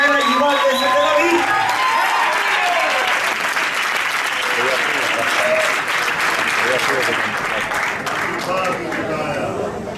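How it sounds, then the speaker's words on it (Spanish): A beach festival crowd applauds a zouk-lambada dance couple with loud, sustained clapping and scattered cheers, while voices and lingering music rise and fall underneath. "Fuertísimo aplauso a Micaela Yuval de Tel Aviv."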